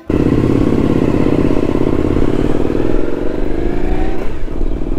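Motorcycle ridden along a mountain road in the Sierra Nevada, Spain, its engine droning loud and close with a rising, revving pitch and some rattling clatter throughout.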